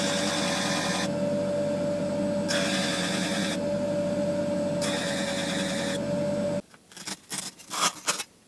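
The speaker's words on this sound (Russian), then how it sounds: "На маленькой скорости, много нам не нужно. Начинаем шлифовать поверхность." A low-speed sanding machine grinds a workpiece surface, giving a steady close whine over coarse hiss that swells and eases in repeated passes, then stops and gives way to scattered clattering knocks.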